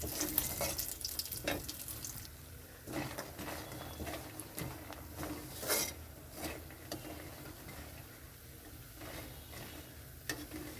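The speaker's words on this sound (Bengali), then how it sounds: "তেলের মধ্যে বড়িটাই ভেজে নেব" Bori lentil dumplings fry in oil after fish, giving a faint, soft sizzle with scattered small pops and occasional light taps of a utensil. No voices.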